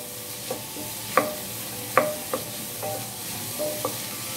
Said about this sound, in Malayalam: ഇനി നന്നായിട്ട് നമുക്ക് മൂപ്പിച്ചെടുക്കാം